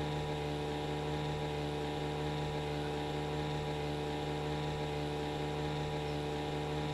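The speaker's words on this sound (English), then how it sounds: "Now we can listen to our lovely boat for a while." A boat engine in the video game My Summer Car drones steadily and loudly, a constant mechanical hum with no pauses or talking.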